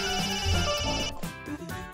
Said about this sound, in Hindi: शिव हमारा फोन काहे नहीं उठा रहा है?